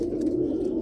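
Roller pigeons coo in a loft, a low, continuous, close-up murmur of overlapping coos that keeps up steadily with no pause.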